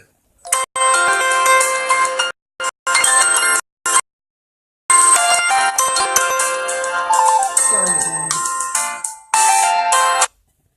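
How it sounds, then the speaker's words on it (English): A phone's ringtone sounds loudly and close for an incoming call, playing in repeated melodic bursts separated by short silent gaps, with no voices over it. "Sorry about that. I got a phone call."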